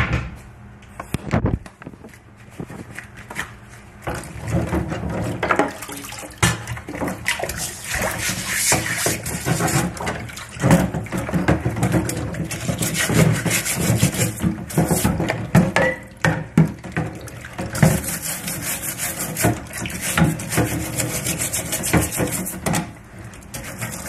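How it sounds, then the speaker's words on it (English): Scrubbing a cast iron waffle iron with soap and water in a sink: irregular splashes, sloshing, trickles and clanks of metal against the basin, close and continuous, with occasional brief talk. "Now to put my gloves back on and scrub these guys a little more."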